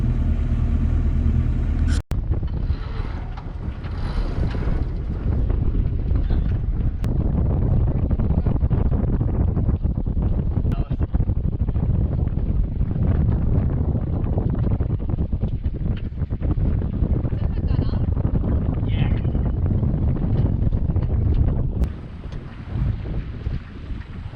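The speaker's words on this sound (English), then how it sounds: "We finally got a little wind. Get this sail up." Steady, loud wind roars across the microphone aboard a sailboat under way, with the rush of water along the hull beneath it, continuous and close for the whole stretch with no talk.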